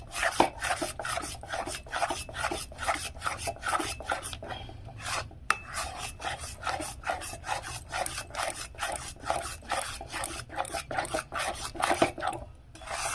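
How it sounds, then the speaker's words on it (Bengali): Rice flour being stirred in a pot for steamed vapa pitha, a steady run of rhythmic scraping strokes, close and fairly quiet, continuing for many seconds with no talk. "এখানে আমি আতপ চালের গুঁড়োটা দেবো আর নাড়বো"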